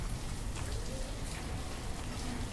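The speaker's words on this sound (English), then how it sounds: "Get them out of the rain" Rain in the video game Banished falls as a steady, soft patter and wash of drops on surfaces, even and continuous with no voices.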